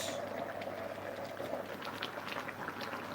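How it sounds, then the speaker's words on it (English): Cabbage, garden eggs and other vegetables bubble steadily in a pot of water for benachin, a soft, continuous close-up simmer with fine popping and no voices. "Boiling very nicely"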